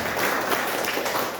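Congregation clapping during a Christmas church service, a brief, even wash of many hands at moderate volume with no voices over it.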